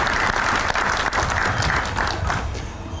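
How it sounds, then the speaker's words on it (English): Audience applause at the New Canaan Old Timers Association 2024 awards ceremony, full steady clapping from a large crowd that tapers slightly toward the end. "You can clap, it's all right."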